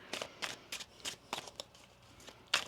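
Tarot cards are shuffled by hand in a quiet room, giving a string of short, crisp riffling bursts in an uneven rhythm, close and fairly soft, with a sharper final snap.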